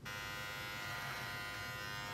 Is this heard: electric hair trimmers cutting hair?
yes